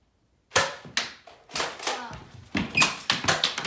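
Nerf pistol dart shots in a backyard Nerf battle: a series of sharp, close pops and snaps in quick irregular bursts, with brief children's voices between them.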